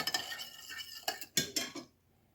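Utensil clinks and scrapes against a bowl as eggs and kefir are stirred briskly, a run of quick metallic taps that stop near the end, leaving quiet.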